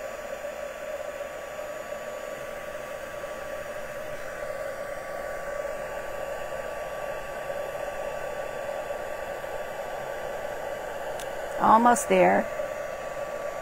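A heat tool blows hot air over a card for embossing, making a steady, soft whooshing hum throughout, with a brief muffled clatter near the end as a voice briefly speaks.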